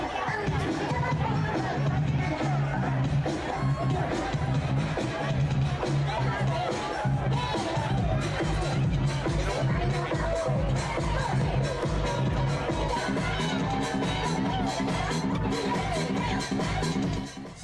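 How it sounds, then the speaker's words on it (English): A large crowd of people moving and talking, a dense continuous babble of voices and movement with a person speaking nearby throughout. "Look at the crowd. They're moving."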